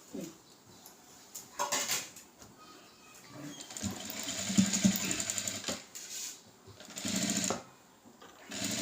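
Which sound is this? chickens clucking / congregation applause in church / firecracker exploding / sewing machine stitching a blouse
sewing machine stitching a blouse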